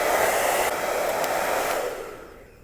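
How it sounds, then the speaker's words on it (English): A steady, broadband hair dryer whoosh on low heat runs close and loud, easing slightly midway and fading down toward the end, as it warms figure skates. "we would actually take just a low heat hair dryer so that we can get that material nice and pliable"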